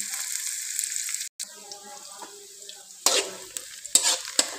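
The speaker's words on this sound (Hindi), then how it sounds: "प्याज हमने बहुत ज़्यादा इसको फ्राई नहीं करना" Onions fry in a pan for a chicken handi with a soft, steady sizzle and light stirring. Faint clinks and a few sharper scrapes or taps come in toward the end, all fairly quiet.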